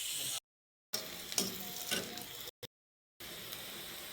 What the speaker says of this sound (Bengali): এবার পেঁয়াজটাকে ভালোভাবে ভেজে নেব।